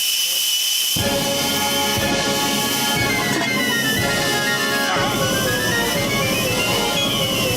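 A long, loud pressure cooker steam whistle hisses continuously after a short quiet start, with a shrill tone that bends in pitch partway through.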